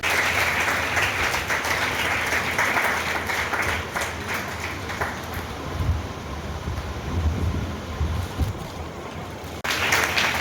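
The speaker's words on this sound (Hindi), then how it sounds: "तालियों की गड़गड़ाहट कम नहीं होनी चाहिए।" Thunderous applause from an audience at a school foundation day ceremony, a continuous roaring wash of clapping heard loud and steady, with a rough, windy edge to it throughout.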